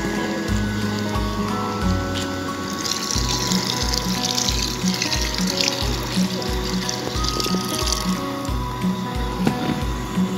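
Water runs from a tap into a cooking pot at a car campsite near Baguio, a steady trickling stream heard over rhythmic background music.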